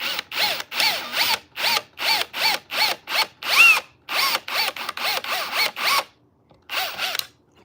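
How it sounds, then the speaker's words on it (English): Power drill boring into thermal oak ahead of a screw into a seat, running in a steady series of short, loud bursts with brief pauses between, then a gap and one last burst. "So we're going to drill this first."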